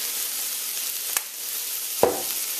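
Vegetables and habanero peppers fry in sesame oil for vegetable fried rice, giving a steady close sizzle throughout with two brief sharp clatters of stirring.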